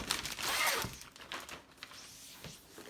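Plastic bag packaging around GoPro accessories being opened, giving close crinkling and crackling that is loudest early, then quieter rustles with a brief tear.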